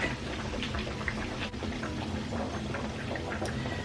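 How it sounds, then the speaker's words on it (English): Pork chops being rinsed under a running kitchen tap, giving a steady, continuous splash and trickle of water with no talk. "we're gonna take this and rinse these"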